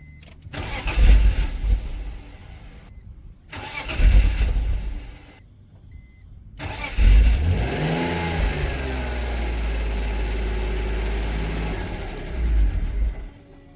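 BMW E46 that sat for five years, engine cranking in two short bursts that fail, then a third crank catching and firing up into a rising rev before settling to a steady idle, close and loud.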